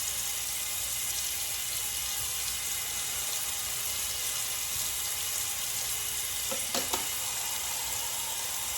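Wet homegrown cabbage sizzles steadily in a hot skillet, a continuous close frying hiss throughout with a brief clatter of stirring near the end.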